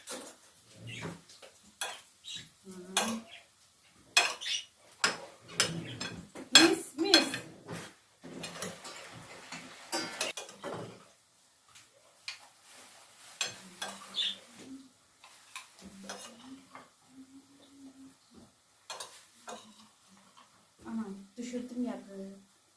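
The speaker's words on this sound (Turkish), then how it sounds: "bir de karıştırıvereyim güzelce" A utensil scrapes and clinks against a bowl while food is stirred in a home kitchen, with irregular metallic taps and clatter mixed in among frequent casual conversation.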